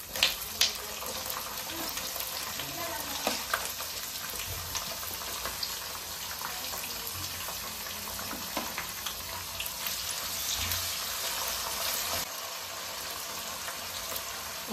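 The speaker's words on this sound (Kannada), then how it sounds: "ಈಗ ನಾನು ತಗೊಂಡಂತಹ ಈರುಳ್ಳಿ ಹಾಕ್ತಾಯಿದ್ದೀನಿ." Onions dropped into hot oil with a cumin and mustard seed tempering fry in a steady, close sizzle, with a few sharp crackles at the start and continuous hissing throughout.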